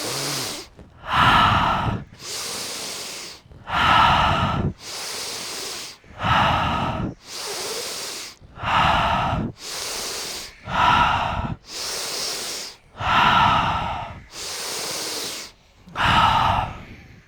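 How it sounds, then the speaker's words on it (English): A group at a breathwork session breathes in through the nose and out through the mouth, about ten loud, rhythmic hissing breath cycles spaced roughly every one and a half to two seconds with short pauses between. "Breathing in the nose and out the mouth."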